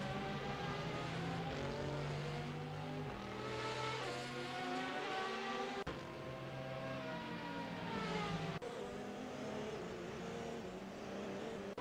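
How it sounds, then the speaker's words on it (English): A Porsche race car in a racing video game screams past at Monza, its high engine note holding steady and loud with brief gear-change dips, while other cars' engines layer beneath. "You can hear the screaming Porsche going down towards the 2nd hairpin."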